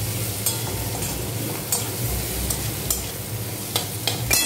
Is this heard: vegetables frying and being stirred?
yes